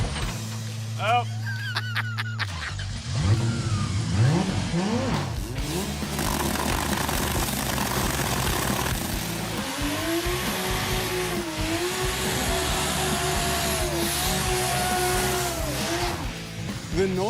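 The turbo 2JZ engine in the Death Metal Charger revs hard and loud, its pitch sweeping up and down repeatedly, with tire squeal and a roar that keeps going under occasional voices.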